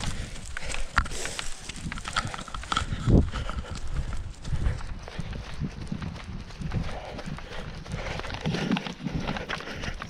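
Trail runner's footsteps squelching through greasy mud on a race trail, a continuous irregular series of wet slaps and sucking steps, close and fairly loud with rustling and breathing noise around them.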